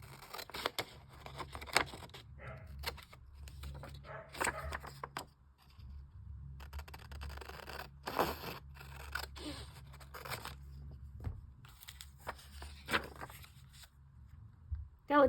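Scissors snip and trim the edge of a glossy magazine page in a quiet indoor setting, making close, crisp cuts in short irregular bursts alongside light paper rustling, with no talking.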